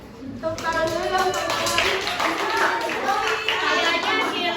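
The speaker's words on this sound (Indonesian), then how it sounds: "Tepuk tangan dulu dong." A class of students claps for a presenting student group, a steady patter of hands lasting several seconds, with children's voices talking and calling out over it.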